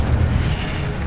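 The Incendio fire spell cast in Hogwarts Legacy, a loud, close burst of roaring, booming flame that fills the moment with dense rumbling energy and no voices.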